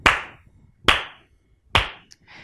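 Three sharp hand claps, evenly spaced and close, each ringing briefly into a quiet room with no voices.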